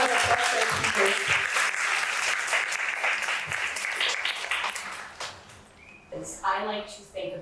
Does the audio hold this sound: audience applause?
yes